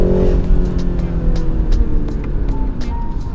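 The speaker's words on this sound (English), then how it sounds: "you're gonna hear the wastegate just opening and pushing that air out" A BMW G20 330i B48 engine with an aftermarket intake revs loudly up close, rumbling and climbing in pitch, with short bursts of air whooshing out from the opening wastegate over the droning motor.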